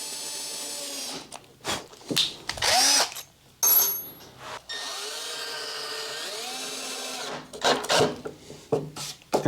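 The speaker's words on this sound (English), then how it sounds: "And then I just drill." Power drill boring into a wooden planter box, close and loud, in several bursts of whining motor with pitch sweeps as it spins up and slows, separated by short quiet pauses.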